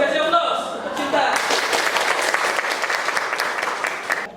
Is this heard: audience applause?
yes